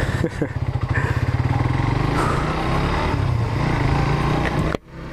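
A budget sport motorcycle on a daily-use test ride pulls away, its engine chugging rhythmically and then droning steadily up close before cutting off abruptly near the end.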